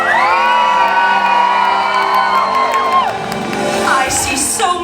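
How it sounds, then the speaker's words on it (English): A crowd of children and adults at a mermaid-themed show lets out a loud, sustained cheer with whoops and shouts that rises and fades over several seconds, then settles into scattered voices. "If you are as excited as I am, let me hear your best royal cheer."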